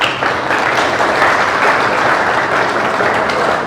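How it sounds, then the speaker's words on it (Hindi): A classroom audience claps together, a dense, loud burst of sustained applause that holds steady for a few seconds. "अपने देश के लिए ताली तो बजा सकते हो।"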